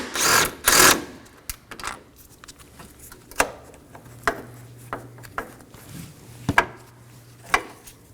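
Brackets are unbolted from the radiator of a 2018-2024 Chevrolet Equinox 1.5L, with two 13mm bolts per side. A burst of ratcheting comes first, followed by scattered sharp metallic clicks and clunks from handling the tool and parts, close by and unaccompanied by talk.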